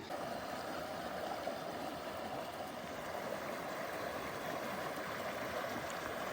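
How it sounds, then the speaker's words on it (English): Cold Creek flows through High Meadow in the Tahoe mountains as a steady, faint broadband rush of running water, continuous and even, with no voices. "this is Cold Creek coming through"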